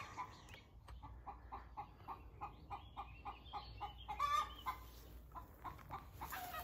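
Cornish Cross chickens on a farm in Clarence Center, New York, cluck in a steady run of short, repeated calls, fairly close and moderately loud against faint background noise, with a brief louder squawk partway through.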